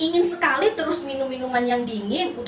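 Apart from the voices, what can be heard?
No distinct noise like a dog, phone or traffic.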